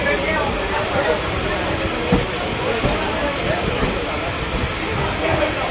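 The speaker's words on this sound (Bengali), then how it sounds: "এই আমাদের ট্রেন এখন ঢুকছে হচ্ছে কৃষ্ণনগর সিটি জংশন" A Sealdah–Krishnanagar local train rolls into Krishnanagar City Junction with a steady, loud rumble and hiss of wheels on track, faint clacks rising now and then, heard from aboard.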